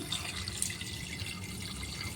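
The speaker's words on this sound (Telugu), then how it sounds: "తగినన్ని వాటర్ పోసుకొని" Water is poured into a pot of spinach dal seasoned with garlic and tamarind, giving a faint, steady trickle with light splashes and no talk.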